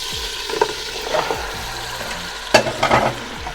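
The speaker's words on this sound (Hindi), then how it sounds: "ऑयल गर्म होता है तो फिर हम इसमें गोश्त डालते हैं।" Beef pieces sizzle and crackle in hot oil in a pot while being stirred, a steady close frying hiss with a few sharper bursts and scraping stirs, no talk.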